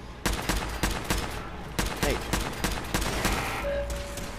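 Gunfire in the Fallout 4 Automatron video game, loud repeated shots in an uneven burst pattern with sharp cracks close together, followed by a sustained electronic tone near the end.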